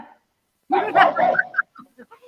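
A dog barks close by in one burst of rough, yelping barks, followed by a few short whimpering yips.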